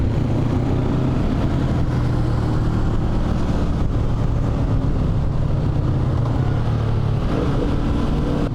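Honda lightweight adventure motorcycle engine running at a steady, even drone throughout, a continuous low hum with wind rush, no speech over it.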